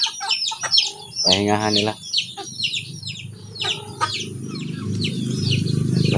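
Chickens cluck and chatter close by in the afternoon, with one louder drawn-out call standing out among short repeated clucks while a person talks briefly.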